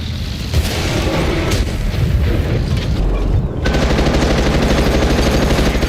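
Battle sounds from the console version of World of Tanks: a rapid stream of gunfire and booming cannon shots, loud and close, running continuously with a heavier burst partway through.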